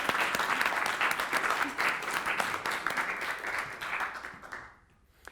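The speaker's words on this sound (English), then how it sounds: "we should have a round of applause for Helen and Frederick" Audience applause fills a philosophy lecture hall, a steady dense wash of many hands clapping for several seconds before fading out near the end.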